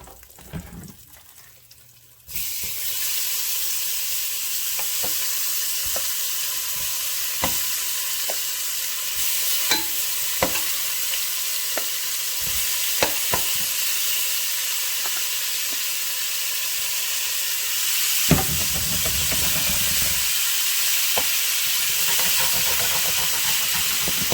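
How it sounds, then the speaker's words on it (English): Food fries steadily in hot oil in a pan for New Orleans yakamein, a constant loud sizzle broken by occasional clicks and stirring scrapes, with a surge of hissing near the end. "while it's piping hot, we're gonna go ahead and add a little more oil in there"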